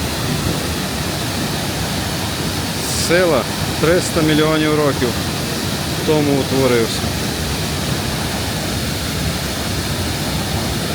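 Steady rushing roar of High Force Waterfall in the North Pennines, England, fills the scene throughout, with a person talking briefly over it in the middle.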